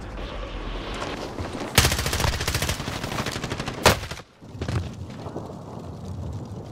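Bursts of automatic gunfire in Call of Duty: Modern Warfare, a loud sustained volley of rapid shots, then a sharp blast and a short pause before quieter shooting resumes.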